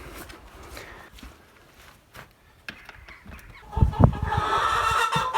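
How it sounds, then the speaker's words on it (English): Chickens in a homestead brooder house used for egg laying: a few footsteps and scattered soft clucks at first, then a louder burst of close clucking and fowl calls toward the end. "our next stop is the chickens in the brooder house that we right now use to collect eggs"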